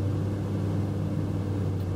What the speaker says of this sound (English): I'm driving slightly faster, maybe at 30 mph right now